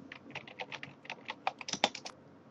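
Computer keyboard typing, a quick run of about fifteen close, crisp key clicks in an uneven rhythm, with a brief denser flurry near the end and no talk.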